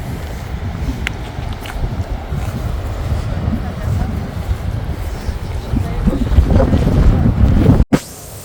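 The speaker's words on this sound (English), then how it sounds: "And it's also extremely windy" Strong wind gusting on a foggy beach, a loud, continuous buffeting roar with rumbling microphone noise that builds toward the end, then cuts out briefly.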